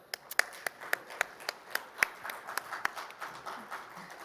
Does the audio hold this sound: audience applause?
yes